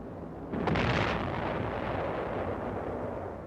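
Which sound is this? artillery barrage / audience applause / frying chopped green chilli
artillery barrage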